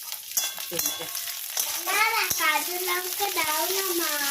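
Green chillies hitting a pan of fried onions set off a crackling sizzle with a few stirring scrapes, while a voice chatters over it.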